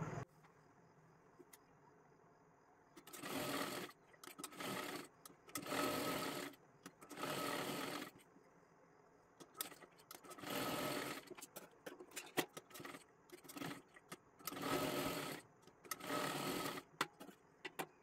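Sewing machine running double stitching on a girl's long one-piece dress, with about eight short loud bursts of rapid stitching separated by quiet pauses, close and alone.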